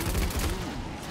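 Victor's barrage in the game Paladins, a brief dense volley of rapid gunfire blasts filling the moment loudly, with no talk.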